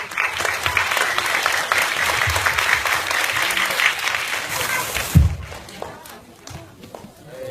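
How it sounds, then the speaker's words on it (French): An audience applauds at a stage show opening, with dense, steady clapping for about five seconds that then stops abruptly, leaving quieter room noise and a few scattered taps. "On l'applaudit aussi."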